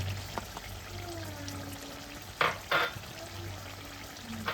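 Beaten yogurt is stirred into chicken karahi in a pan, with soft sizzling and frying under a few sharp scraping stirs of a spoon.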